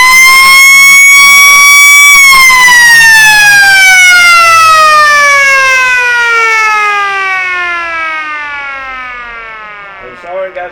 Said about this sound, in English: The siren goes for half time here at the Gammain Sports Ground